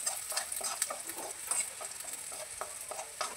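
Palak paneer frying in a pan is stirred, with a soft continuous sizzle and repeated scraping strokes of the spoon, close and fairly quiet.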